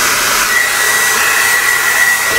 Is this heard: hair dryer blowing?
yes